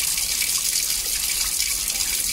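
Water runs in a steady, even gush from a tap switched on by a smart plug, a continuous close hiss that lasts the whole clip without pauses or talk.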